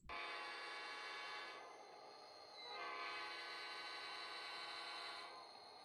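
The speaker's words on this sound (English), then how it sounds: "You can hear our horns there." A train horn sounds in long, loud sustained blasts, one fading briefly before the next begins, with no voices over it.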